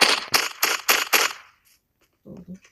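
Video game gunfire rings out in five sharp, evenly spaced shots, loud and close, followed by a near-silent pause and a brief muffled voice.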